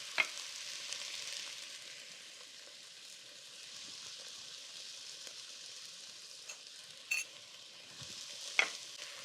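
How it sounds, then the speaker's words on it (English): Vegetables for mashed potato soup sauté in a pot with salt and pepper, giving a soft, steady sizzle throughout and a few sharp clicks of stirring. No one speaks. "And while this sautés"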